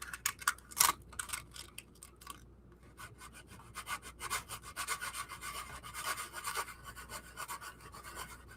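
Sanding by hand with coarse 80-grit sandpaper gives a close, faint, rhythmic rasping of quick repeated strokes, without talk.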